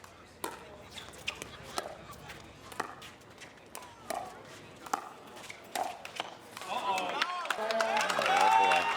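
Beach volleyball crowd at the Virginia Beach Cup, scattered sharp ball hits and claps, then a swelling group groan of voices rising near the end.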